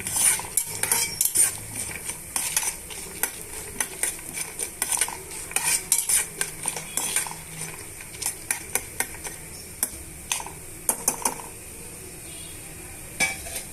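Frying tempering with peanuts for an ivy gourd fry, stirred in a metal pan: repeated close spatula clacks and scrapes in an uneven rhythm over a low, continuous sizzle.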